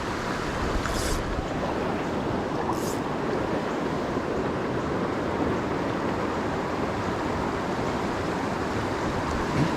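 Rough river water rushes in a low, clear stream during euro nymphing for trout, a steady, dense wash of sound that holds unbroken throughout, with no voices over it.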